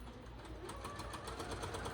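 A sewing machine runs a basting stitch through fabric for hanging kitchen hand towels, its quiet, even rhythmic needle clatter continuing without pause.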